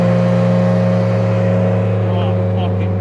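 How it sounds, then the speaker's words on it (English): A Porsche with an aftermarket exhaust revving on Topanga Canyon road, a loud steady engine drone heard close from inside a moving car, with faint higher tones near the end. "Another Porsche all the way up there being a Porsche"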